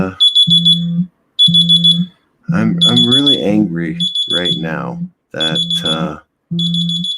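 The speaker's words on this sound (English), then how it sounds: "That was the alarm to get my daughter up." A morning wake-up alarm sounds in repeated evenly spaced beeping bursts with a steady low hum, loud and close, continuing under a person speaking in the middle.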